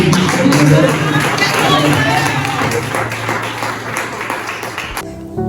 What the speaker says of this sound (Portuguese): as palmas louvam